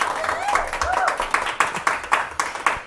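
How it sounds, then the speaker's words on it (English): A studio audience at a comedy talk show claps, a dense wash of applause with sharper hand claps rising toward the end while a host speaks over it. "it's a round of applause for this young lady"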